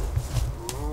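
Moose cows calling in Chugach State Park near Anchorage, Alaska, during the fall rut, a low drawn-out moan rising in pitch, single call heard at moderate distance.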